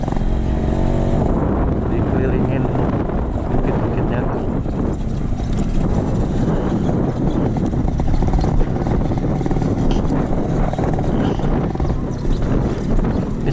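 A Yamaha RX King motorcycle climbs a hill trail on a savanna near Kawah Wurung, its engine roaring loud and close without a break as the rider works the throttle.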